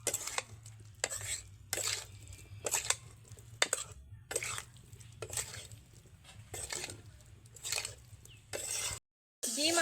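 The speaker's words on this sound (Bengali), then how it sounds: "দুই থেকে তিন মিনিট ভালোভাবে এটাকে নাড়তে থাকবো যাতে ডিম আর আলুর মধ্যে মশলা ঢুকে যায়" Spatula scraping fried potatoes and eggs with spices around a pan, cooked without oil, in repeated rhythmic bursts of loud close scraping separated by short pauses over a low steady hum.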